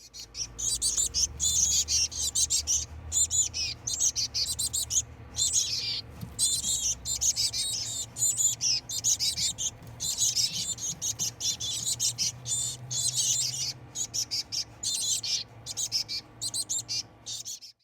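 Dense, continuous high-pitched chirping and peeping from several chickadee chicks, close and loud, with a steady buzzy chorus throughout.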